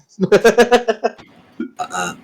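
A voice imitates a long, gurgling Barney Gumble-style burp, a run of rapid guttural pulses followed by a couple of shorter croaking sounds, close and loud.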